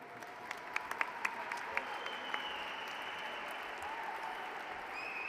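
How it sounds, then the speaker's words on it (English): Awards ceremony audience applauding for a lifetime achiever, steady crowd clapping throughout with a few sharp close claps early on and faint whoops rising near the end. "Huge round of applause for Tony Lloyd"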